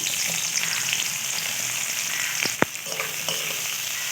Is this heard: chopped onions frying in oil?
yes